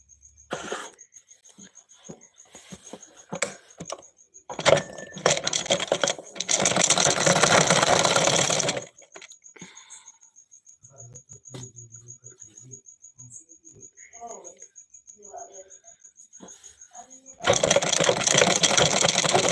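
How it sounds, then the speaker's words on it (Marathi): A sewing machine stitches a blouse in a home setting, running in two loud steady bursts, with a thin high insect-like chirp throughout and scattered clicks and rustles between runs. "काय करते मी ब्लाऊज शिवते दादा"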